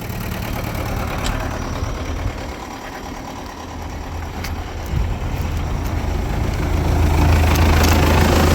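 Diesel engine of an MTZ tractor running in sixth gear while working a field, a loud, steady low rumble that holds throughout with a slight rise near the end and no talk.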